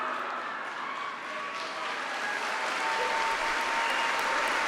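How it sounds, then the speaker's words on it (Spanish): Sustained ovation from the faithful gathered for a papal general audience in the Paul VI audience hall, a dense, steady wash of clapping and cheering that swells slightly toward the end, with no speech over it. "Escuchamos la ovación de los fieles presentes en la plaza, en el aula Pablo VI."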